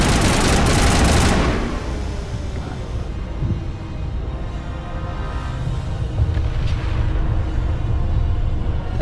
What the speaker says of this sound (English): I'm really liking this assault rifle.